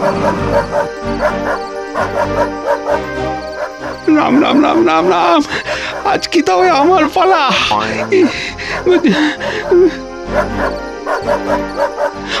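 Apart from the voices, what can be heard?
dog barking in cartoon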